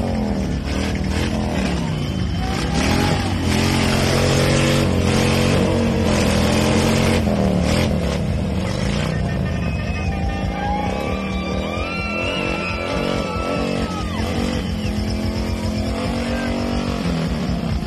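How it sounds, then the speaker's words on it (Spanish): Loud motorcycles rev and ride past, engines roaring continuously and climbing in pitch through repeated throttle bursts, dense and close. "tenemos un video de las motos más escandalosas"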